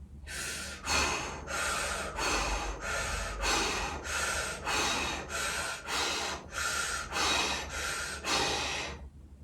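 Deep rhythmic breathing during a kundalini breathing exercise, around a dozen forceful breaths in a steady cycle of roughly one per second, close and loud with airy rushing bursts and no talking.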